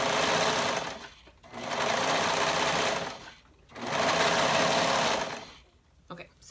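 Serger stitching a half-inch seam on a fabric tank bodice, three steady bursts of close, even whirring separated by short pauses.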